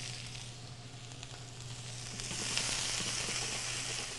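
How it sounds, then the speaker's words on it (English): Onion and peppers sautéing in a pan give off a steady, soft sizzle that grows slightly louder partway through, heard up close with no voices. "So we're gonna let this saute here."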